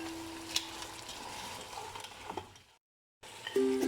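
Whole spices and chicken frying in a pan over low heat, a soft close sizzle with light stirring scrapes, cutting to brief silence before a louder sizzle resumes.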